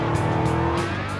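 An AC Cobra engine runs steadily and loudly up close, a dense continuous rumble with a faint pulsing rise and fall and no voices.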